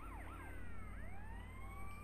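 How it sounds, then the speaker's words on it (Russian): Police car siren in the video game GTA Liberty City Stories, a wailing electronic siren sweeping up and down in pitch, steady and moderately near over a low engine hum. "Прям за нами полицейская машина, ее, наверное, не видно, но она есть."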